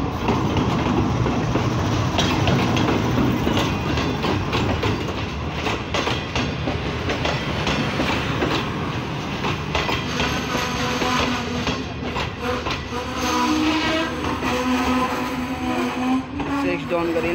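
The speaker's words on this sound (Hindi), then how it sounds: "सामने से आती हुई 6 डॉन ग्रीन लाइन एक्सप्रेस जहाज की लीड में लगा हुआ है GU40 9050।" Green Line Express passenger train led by a GEU-40 diesel locomotive arriving at a Pakistani station, a continuous loud rumble with rolling wheel clatter and rail noise, close and sustained throughout, with someone speaking over it.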